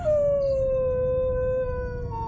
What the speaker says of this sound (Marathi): कुत्र्यांचे रडण्याचे आवाज येत होते